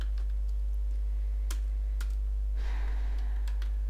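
Someone types on a computer keyboard during a network switching lab on VLAN trunking. Scattered close key clicks sound over a loud steady electrical hum, with a brief rustle partway through and no speech.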